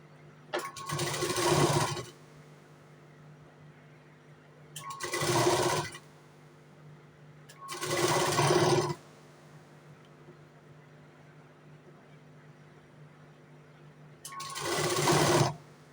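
A sewing machine stitches piping onto a blouse in four loud, close bursts of rapid whirring and needle chatter, each lasting one to two seconds and separated by short quiet pauses.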